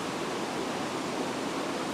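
Nokanayan waterfall, the tallest in Kalimantan, heard from its top as a dense, steady roar of falling water, loud and unbroken, with no other sounds.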